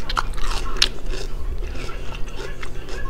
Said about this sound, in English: Let's just take a bite of ginger because I love it.